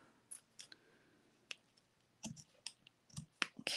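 Scissors snipping through patterned paper card for handmade cards, a scattering of small crisp clicks and snips, close and quiet, in uneven bursts with short pauses between.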